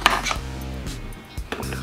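A knife chops zucchini on a cutting board, giving a few sharp, close knocks spaced across a short moment, with no talk.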